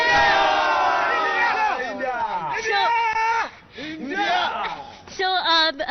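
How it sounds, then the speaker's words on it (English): A crowd of cricket fans at a Champions Trophy final watch event in Trivandrum cheers and shouts for Team India, with loud overlapping whoops and rising and falling yells that drop briefly before surging again. "Guys, cheer for Team India!"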